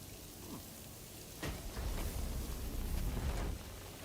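Timefall rain from Death Stranding 2 falls as a steady broadband hiss. It thickens and grows louder from about halfway through, with a few brief brighter streaks, and there is no talking.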